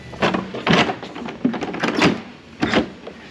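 A truck door is slammed shut several times against a newly fitted door gasket, giving loud, close thuds with short gaps between them.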